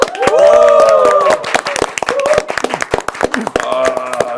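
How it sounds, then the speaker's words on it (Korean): A Korean TV studio audience claps at the opening of a special talk broadcast. Scattered, sharp claps run throughout, loud and close, mixed with raised voices calling out over them. "박수로서 오늘 역전용사들 시작하겠습니다"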